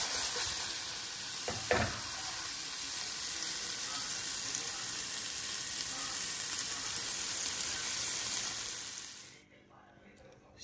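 Food simmering and frying in a pot in a Jamaican yard kitchen, a steady bright sizzle and hiss with a brief clatter early on, cutting off near the end.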